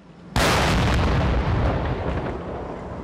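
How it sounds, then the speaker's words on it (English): A police controlled detonation at night of a suspicious device found in a suburban wheelie bin: one sudden, loud blast followed by a long, rolling rumble that slowly fades. "In the middle of the night, an explosion in the suburbs."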